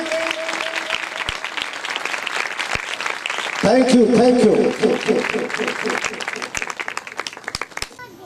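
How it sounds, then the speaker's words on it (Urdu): An audience at a church gathering applauds as a pastor comes forward, with steady clapping, sharp individual claps, and a swell of louder music and applause in the middle, while someone speaks over it. "تالیاں بجتی رہے"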